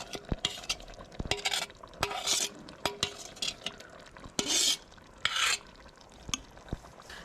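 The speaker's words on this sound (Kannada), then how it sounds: "ಹಾಗೆ ನಾವು ರೆಡಿ ಮಾಡಿದ ಮಸಾಲೆನ ಇದಕ್ಕೆ ಇವಾಗ ಆ್ಯಡ್ ಮಾಡ್ತಾ ಇದ್ದೇವೆ." Masala being stirred into cooked country chicken for a Kundapura-style curry, with a spoon scraping and clinking against the pot in irregular bursts, close and fairly loud with a faint sizzle beneath.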